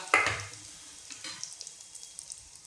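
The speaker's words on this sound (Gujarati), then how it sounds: "આ જીરું નાખ્યું, થોડીક હિંગ નાખી" Cumin seeds and a pinch of asafoetida hit hot oil for a tempering, a brief sharp burst of sizzle at the start that settles into a faint, crackly hiss with scattered small pops, close by and without speech.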